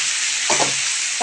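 Green chillies fry in hot oil in a pan with a steady, close sizzle, broken by one short scraping stir midway through.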